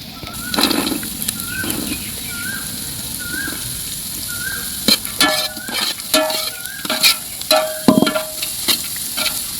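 Beans and carrots tossed into onions frying in a pan, with a steady sizzle, stirring scrapes and clatter growing busier in the second half, while a bird chirps repeatedly in the background.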